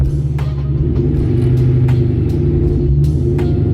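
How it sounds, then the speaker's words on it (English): Supercharged Ford Mustang GT engine idling unevenly, a steady close low rumble with faint periodic bumps and no talk over it. "it's just because the car is not idling as smooth as can be"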